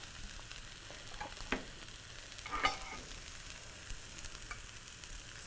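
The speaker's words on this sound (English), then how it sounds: "we're going to add to it some of our stir-fry sauce" Stir-fry sauce, about two tablespoons, poured into a hot pan of fried rice made with cold rice, giving a soft steady sizzle with a couple of brief louder splutters, no voices.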